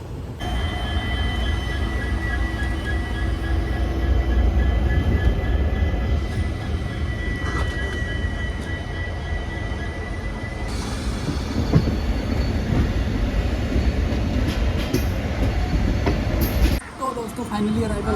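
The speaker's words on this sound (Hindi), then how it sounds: "अभी तो पुराने वाले पुल से ही अपनी ट्रेन जा रही है" A passenger train crosses the old Yamuna river bridge near Old Delhi, a loud steady rumble of wheels and carriages with faint metallic squeals and rhythmic clatter running throughout, briefly dipping near the end.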